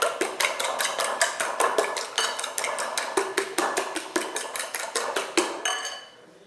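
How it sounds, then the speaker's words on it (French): Eggs beaten in a bowl with quick, steady clinks of utensil against the rim, a fast regular rhythm close by and fairly loud, stopping abruptly near the end with no talking. "je vais d'abord battre les œufs"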